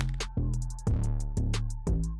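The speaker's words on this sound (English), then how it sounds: "So listen closely to the apple collect sound." A collect sound effect for golden apples in a Scratch video game, heard as four loud, evenly spaced tonal bursts with bright, bite-like crunchy onsets, each landing about half a second after the last. Nobody speaks.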